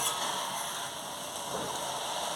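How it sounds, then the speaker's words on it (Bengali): Water spinach frying in a wok gives a steady, close sizzle and crackle as it is stirred gently, with no voices. "পুরো শাকটা কড়াইতে দেওয়া হয়ে গেছে এবার হালকা হাতে একটু নেড়ে দিতে হবে"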